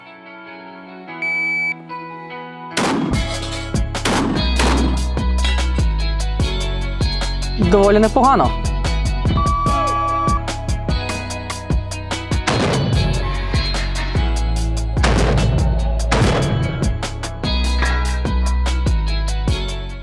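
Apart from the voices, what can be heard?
shots from a modified Benelli M4 combat shotgun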